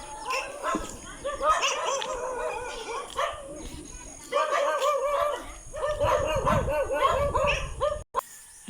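Dogs bark and yip in bursts, some whimpering between, over a noisy outdoor background.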